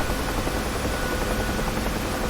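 Rotor of a UH-1H helicopter in the DCS World flight simulator, a steady, loud, continuous whirring drone with no talking over it.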